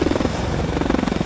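A helicopter in the video game Call of Duty: Advanced Warfare thumps with fast, steady rotor pulses over a dense, loud roar of engine noise, close and unbroken throughout.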